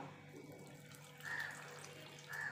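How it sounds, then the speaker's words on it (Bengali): Hot water poured into a bowl of pitha dough flour, a short soft trickle and splash close by, with two brief brighter surges, no voices. "এবার আমি সাইডে গরম জল করে রেখেছি, সেটা দিয়ে দেবো।"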